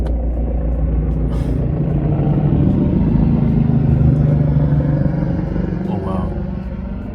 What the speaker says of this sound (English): ambulance helicopter.